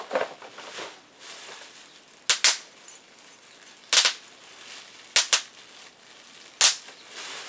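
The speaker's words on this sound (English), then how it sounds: "Here's the bubble wrap." Bubble wrap packing from a Funko collector's package is popped in sharp, isolated snaps, single and paired, spaced a second or so apart over a quiet background of faint rustling.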